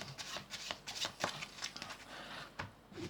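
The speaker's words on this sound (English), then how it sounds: "you could get your spectator to shuffle these cards" Deck of playing cards being shuffled by hand, a series of quick riffling bursts and soft slaps in uneven rhythm, close and fairly quiet with no talk.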